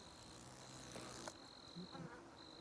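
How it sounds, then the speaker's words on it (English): Bees buzz steadily around a hive, a continuous droning hum with a few brief louder bursts, close by and without talk. "The bees are getting more and more active at the top of this"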